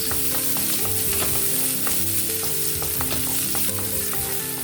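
Onions fry in a pan for vegetable kare-kare, a loud continuous sizzle with repeated scraping and stirring clatter from a utensil, no voices.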